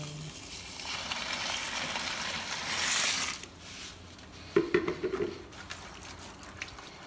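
Hot water poured from a kettle onto Maggi instant noodles being soaked as fishing bait, an outdoor pour with a steady watery wash, then a few close splashy bursts near the end.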